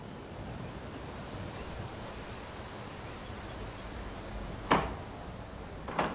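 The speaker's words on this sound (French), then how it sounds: "Le vent est fort aujourd'hui." Strong wind rushes steadily across an open outdoor space where geese sit on the ground, a dense, even roar with a couple of sharp gusty buffets near the end.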